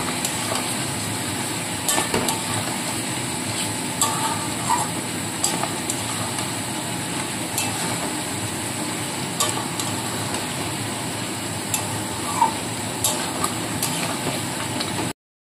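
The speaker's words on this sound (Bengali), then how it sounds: "এবার ভালো করে আবারও মিশিয়ে নিতে হবে।" Mutton korma being stirred with coriander powder in a pan: a continuous soft sizzle with intermittent scraping clicks of the spoon against the pan, moderately quiet and without talk.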